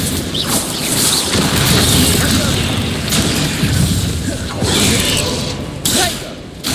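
Spell explosions in the Hogwarts Legacy video game boom and crash in a loud, dense, continuous barrage of blasts and thuds, with voices shouting over them.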